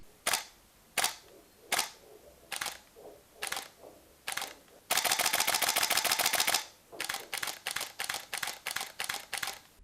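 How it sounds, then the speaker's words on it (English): Canon EOS 5D Mark IV shutter clicks: several single shots spaced apart, then a fast continuous burst, then another rapid series of crisp, close snaps. "Here's a quick demonstration of shutter sounds."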